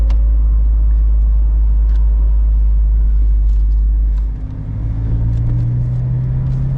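Mazda ND Miata with an axle-back exhaust rumbles steadily at a low idle or cruise, a constant close engine drone that dips briefly and then settles into a slightly higher hum.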